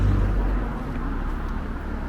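Steady street traffic rumbles in a continuous low wash of car and road noise, with a louder passing vehicle at the start fading into the background hum.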